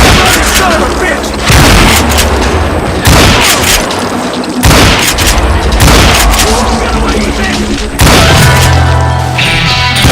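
Heavy gunfire from the shooter game GUNSlinger during a pitched battle, with loud booming bursts and volleys of shots that break off and start again several times across the stretch.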